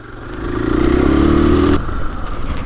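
A 2021 KTM 500 EXC-F Six Days dirt bike gives a single sharp throttle blip, the engine note rising loud and close, then cutting off abruptly into a rougher, lower running sound.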